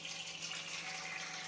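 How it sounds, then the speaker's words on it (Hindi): Water is poured over sprouted mung beans in a steady, soft, continuous stream. The gentle rushing flow stays even and fairly faint throughout, with no voices. "इस तरह से हमें इसमें पानी डालना है,"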